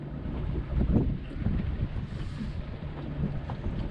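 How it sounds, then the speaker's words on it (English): Strong cold wind gusts across the microphone on a fishing boat among whitecaps, a low, rumbling buffet that swells and eases at moderate level with no speech. "that wind is terrible"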